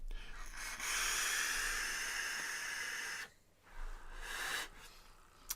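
Air is drawn through an Advken Owl starter vape kit with a 21700 battery, producing a close, breathy hiss in two pulls, a long one and then a shorter one after a brief pause.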